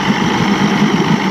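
A 1989 Johnson 150hp outboard on a McKee Craft boat, suffering loss of power, idles near 1,000 RPM with a steady, close, low rumble and faint vibration.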